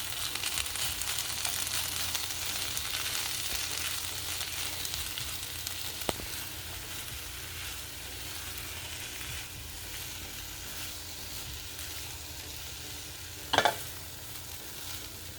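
Bulgur sizzles and is stirred in a pan in a quick healthy bulgur dish, a steady soft frying hiss throughout with a faint scrape near six seconds and a louder clatter of the spoon near the end.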